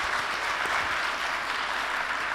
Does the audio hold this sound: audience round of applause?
yes